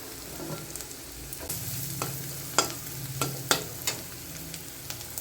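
Food sizzling in a pan with a steady hiss, punctuated by sharp clinks and scrapes of a utensil stirring at irregular intervals.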